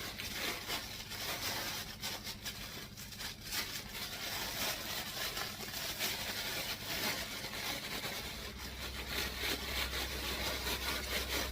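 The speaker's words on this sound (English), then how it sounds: "Gently shaking it up, making sure I'm distributing those grains into the grain spoon or into the sawdust." A sealed bag of grain spawn mixed with sawdust, shaken up on a Lion's Mane mushroom farm, giving a steady close rustling and gritty shuffling that runs without pause, with no talk.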